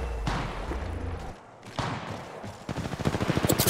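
Video game gunfire with the player under attack: bursts of rapid shots crackle loudly, pause briefly, then return as a fast rhythmic volley of close, repeated reports.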